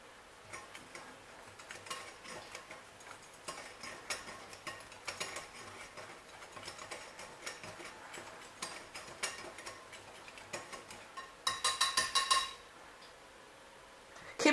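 A spoon or whisk mixes pancake batter with granulated sugar in a bowl, making light, quick, irregular ticking and scraping taps, then a brief faster burst of clinking near the end.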